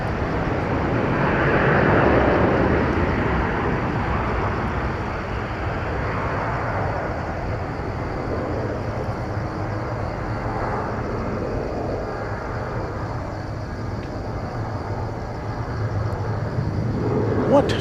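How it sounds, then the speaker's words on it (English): A China Southern Airbus A320-300 from Dalian lands at Incheon airport, a broad, steady jet roar that swells early on and then holds at a constant, fairly distant rumble. "China Southern from Dailan, Airbus A320-300."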